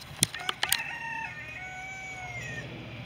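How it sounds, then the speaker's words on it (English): A rooster crows loudly nearby on a farm among chickens and broad-breasted turkeys, following a few sharp clucks, with no voices. "So here's most of my turkeys and chickens."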